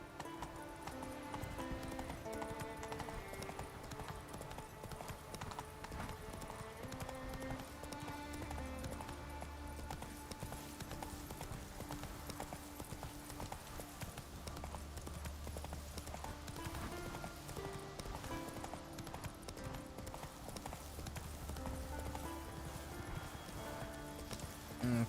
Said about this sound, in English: And then we can use Roach and ride Roach all the way out